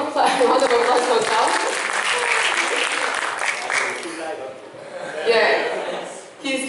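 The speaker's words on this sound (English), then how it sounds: "A round of applause for myself." An audience at a design thinking talk breaks into clapping that holds strong for several seconds, then thins and briefly swells again, with some voices mixed into the applause.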